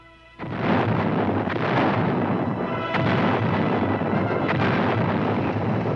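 Archival footage of tank gunfire in Korea, a heavy blast after a brief quiet, followed by continuous rumbling battle noise with further booming reports, loud and sustained.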